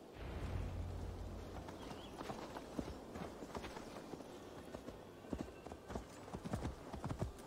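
Horse hooves clip-clop in the Assassin's Creed Valhalla video game as a ridden horse moves through a forest, a steady run of fairly quiet hoofbeats growing busier and sharper toward the end.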